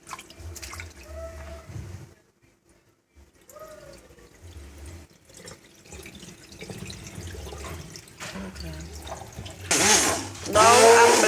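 Moringa leaves rinsed in water, mostly quiet handling and small drips, then a loud rush of running tap water close by near the end.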